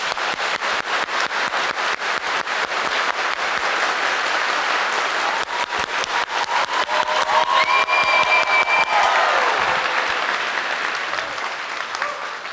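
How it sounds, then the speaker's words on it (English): A church congregation claps hands together in a large hall, dense and loud applause sustained throughout with a few cheers rising partway through. "Clap your hands."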